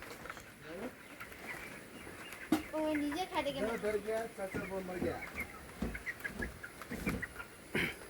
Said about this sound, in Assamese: চাওক ইমান ধুনীয়াকৈ ব্ৰইলাৰ পোৱালিখিনি দানা চানা খাই বৈ শুই আছে